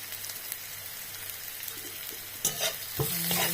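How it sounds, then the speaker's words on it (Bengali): Onions frying with a little salt in a pan, a steady loud sizzle with a few sharper scrapes of stirring near the end. "একটু ভাজতে ভাজতে অল্প নুন দিয়ে দেবো, তাহলে পেঁয়াজটা নেতাবে।"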